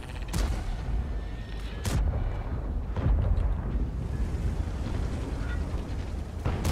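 Heavy tank cannon shots in World of Tanks: deep, loud booms with a sharp crack, a few spaced blasts over a constant rumbling engine and battle background.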